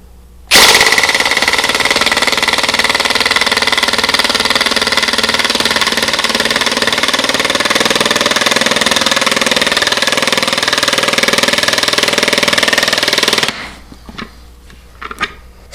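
A Ridgid 18V brushless 1/4-inch pulse driver drives a 4.5-inch screw into wood with no pre-drilled hole, giving a loud continuous rapid hammering rattle for about thirteen seconds that stops abruptly.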